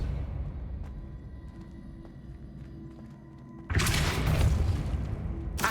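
A Depulso force spell from Hogwarts Legacy goes off as a sudden loud, broadband thumping blast partway through, following a quieter stretch of game ambience and small effects.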